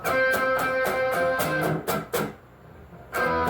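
Guitar strummed in a repeating up-down pattern for a song, ringing chords broken by a few short percussive muted strokes, then a brief pause before the strumming resumes, close and alone.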